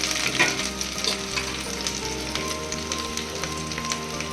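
Spices fry in a pan for dhaba-style paneer butter masala. A dense, steady sizzle with crackling pops stays close and loud, with no talk.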